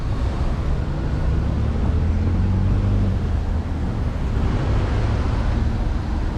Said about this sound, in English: I have to apologize if there's a lot of wind noise and traffic noise.